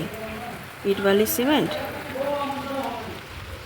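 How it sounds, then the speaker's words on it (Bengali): Monsoon rain falls steadily outside a house under construction, making a constant hiss and patter. A voice speaks briefly over it. "বৃষ্টি এসছে"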